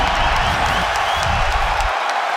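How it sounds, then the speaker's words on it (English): A large arena crowd roars and cheers at a UFC fight, a dense, loud continuous wash of noise with no clear breaks, dropping slightly in low rumble near the end. "Listen to this crowd."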